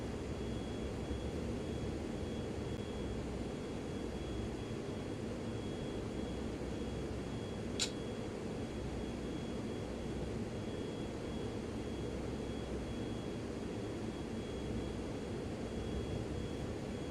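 An F-14 jet lands on an aircraft carrier in the flight simulator MSFS 2020, a faint, steady engine drone throughout, broken by one brief sharp click midway.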